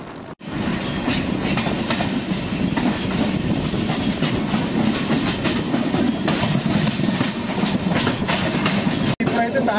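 A Konkan Railway passenger train on the Mumbai to Trivandrum route rumbles loudly and continuously as it enters its first tunnel, wheels clattering in a steady dense roar with no voices.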